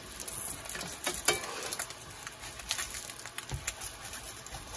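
Vegan mock duck frying in a hot pan over a low flame, giving a soft, steady crackle and patter with scattered sharper pops, close by and fairly quiet, with no talking.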